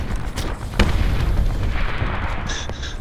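A sharp blast rings out, followed by a sustained rumbling roar and scattered crackles, a mine explosion heard up close in Call of Duty: Black Ops.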